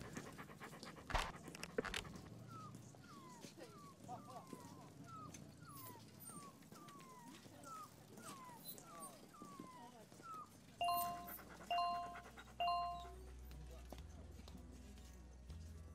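A stray dog pants in a rapid, steady rhythm close by at night, with people talking around it and a few sharp bell-like tones near the end.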